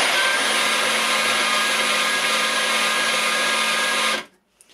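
Makita 40V XGT PB002G cordless bandsaw running freely, a loud steady whining hum held for about four seconds before the motor cuts off abruptly, leaving near silence.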